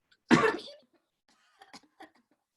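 One forceful cough muffled into a raised arm as a demonstration, followed by a few faint, brief mouth and throat sounds.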